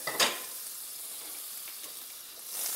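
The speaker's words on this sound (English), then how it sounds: "I'm going to add to this hot pan about a teaspoon of butter" A teaspoon of butter hitting a hot pan before lamb chops go in, giving a brief sharp burst of sizzle that settles into a steady soft hiss, swelling again near the end.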